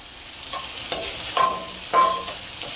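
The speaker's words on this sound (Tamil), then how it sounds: "நல்லா ஃப்ரை ஆகட்டும்" Food frying in a pan for tomato rice, with a few sharp bursts of sizzle and stirring spaced across a low, quiet background of crackle, heard close with no talking.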